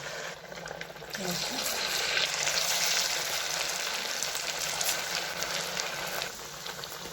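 Sabudana snack balls deep-fry in oil, giving a steady, dense bubbling hiss that swells after the first second and holds close and even, with a faint voice now and then underneath.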